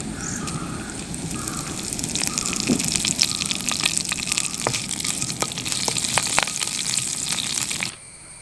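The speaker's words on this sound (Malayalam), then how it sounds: "നമ്മൾ വറവെടുത്തിരുന്നു വറവയിലേക്ക് ഇടാം" Tempering for Kerala sadya-style pineapple pachadi sizzles and crackles loudly in a hot pan, a steady frying hiss with sharp pops running for about eight seconds before cutting off abruptly.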